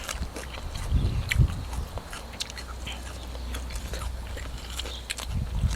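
Someone bites into and chews a sweet carrot, pulling it off with the mouth, producing close crunchy bites and wet chewing over a low, steady background.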